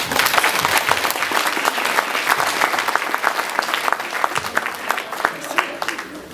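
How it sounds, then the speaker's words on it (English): A crowd applauds the girls' swim team at a high school swim banquet, with steady dense clapping that stays loud and unbroken throughout. "So let's give a round of applause for the whole swim team."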